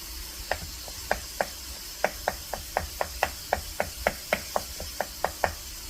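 Quick, even knife taps on a cutting board, about three per second, close and crisp over faint background hiss as garlic is chopped.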